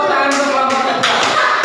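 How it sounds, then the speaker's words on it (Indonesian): A classroom audience claps for a group of students, a short burst of brisk, close applause in a few uneven waves. "Tepuk tangan untuk kelompok 3"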